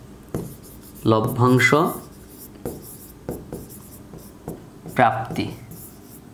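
A pen scratches across paper during an accounting lesson in short strokes and taps, close and clear, with a voice speaking between the marks.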